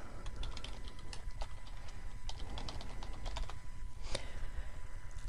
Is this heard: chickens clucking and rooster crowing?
no